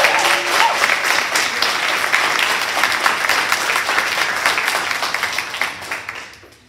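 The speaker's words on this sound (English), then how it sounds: "Can we give Carol a big round of applause?" A large audience at a university student awards celebration claps warmly for an honoree, dense applause that holds steady and then fades out at the end.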